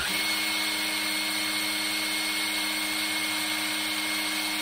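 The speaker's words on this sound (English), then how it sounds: "the speed I can spin it with this drill" An electric drill whirs steadily at constant speed spinning an engine oil pump to prime it, a continuous tonal hum with no pauses.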